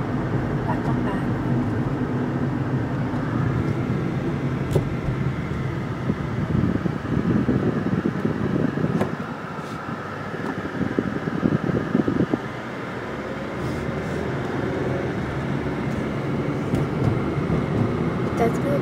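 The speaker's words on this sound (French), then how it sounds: "Peut-être que vous trouverez des sons de la voiture assez relaxante" Steady car driving through the Southern California countryside, a continuous low road rumble and engine drone holding evenly throughout, with a slight dip partway, no voices.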